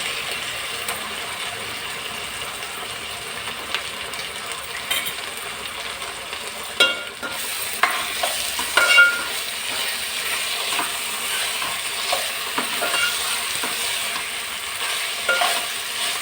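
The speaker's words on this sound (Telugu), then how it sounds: "అల్లం వెల్లుల్లి పేస్ట్ వేగిపోయింది" Ginger garlic paste frying in oil for tomato rice, a soft, steady sizzle broken by clattering spoon stirs and scrapes against the pan, close by with no speech.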